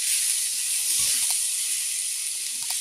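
Egg fried rice sizzling in a pan while it is gently stirred, a loud continuous hiss of frying with a few soft scrapes of the spatula.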